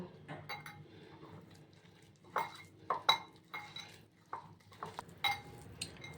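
Gram flour batter with pennywort leaves and salt is worked together in a bowl, giving soft scraping and irregular clinks and knocks against the bowl, close and fairly quiet with no talking.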